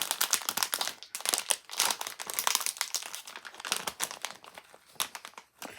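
A Moondust candy packet crinkles and crackles as hands struggle to open it, giving a busy run of close, uneven plastic rustles with brief pauses and no voices.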